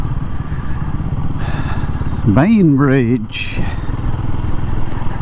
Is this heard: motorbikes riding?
yes